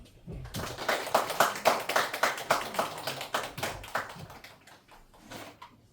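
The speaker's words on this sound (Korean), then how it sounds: "네, 박수" A church congregation claps together during a confirmation service, a dense burst of hand claps that builds quickly, holds steady for a few seconds, then thins out and fades toward the end, close and moderately loud with no talking.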